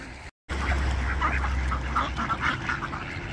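Ducks and geese quack and honk together in a noisy flock in snowy weather in Albuquerque, a busy overlapping chorus close by after a brief dropout.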